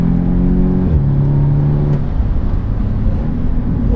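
A 2015 Audi S3 engine pulls hard under acceleration, its loud revving note climbing, dropping at a gear change, then building again with road and tire roar close by.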